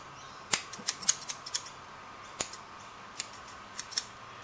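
Scissors trimming foam foliage on a model tree, a scattered series of crisp, close snips, some in quick clusters and others isolated, over a quiet background.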